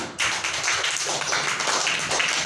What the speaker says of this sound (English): Clap for Tahia and Faria